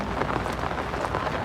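Rain falls steadily on a riverbank during the first monsoon rain, a dense hiss of drops with faint low rumbling underneath and no voices.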